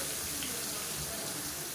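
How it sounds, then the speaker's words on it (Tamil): Water running into a mixer jar in a kitchen as it is rinsed and topped up, a steady faint rushing splash with no break. "இப்போ மிக்ஸியை அலசிட்டு கொஞ்சமாக தண்ணி சேர்த்துக்கிறேன்."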